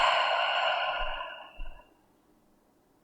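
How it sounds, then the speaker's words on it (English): A long, breathy exhale out through the open mouth during a yoga session, close and fairly loud, fading gradually into quiet with a soft thump midway. "Open your mouth and exhale it all out."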